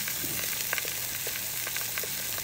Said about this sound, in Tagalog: Tapos pwede na natin igisa yung bawang,